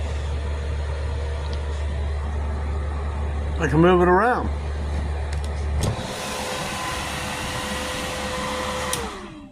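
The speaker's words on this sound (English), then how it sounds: "I just turn the fan on. Yeah, it's a little noisy." A cooling fan in a homemade solar generator runs with a steady whirring hum and a faint tone. It comes in partway through, after a low hum, and a person talks over it.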